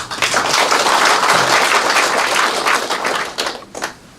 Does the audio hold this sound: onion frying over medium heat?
no